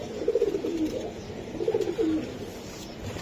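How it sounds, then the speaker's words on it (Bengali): A Giribaz racing pigeon coos close by in two soft, throaty rolling phrases separated by a short pause, over a quiet background hum. "এই যে দেখেন কবুতরটা"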